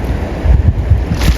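River water sloshes and splashes in a few quick bursts as a large fish stirs it during outdoor fishing, close to the microphone, with gusty wind noise underneath.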